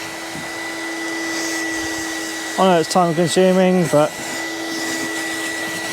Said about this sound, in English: Just hoover up the dust.